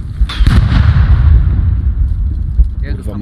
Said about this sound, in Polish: duży czołg strzelają, pany!